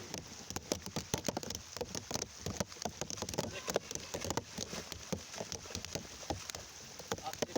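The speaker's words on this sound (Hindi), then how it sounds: "बारिश बड़ी जोर नाल हो रही है" Heavy downpour in the Thal region of Pakistan, a dense steady hiss of rain pattering on surfaces with sharp drop impacts, constant and loud from start to finish, with faint talk mixed in underneath.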